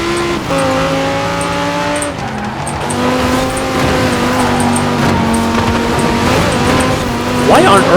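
A stock Audi R8 V10 supercar in Forza Horizon 4 drives on a snowy course, its engine droning steadily and rising through revs with gear-change dips, loud and up close, while a voice talks over it.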